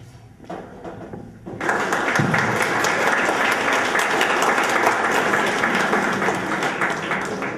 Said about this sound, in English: The round of applause will come.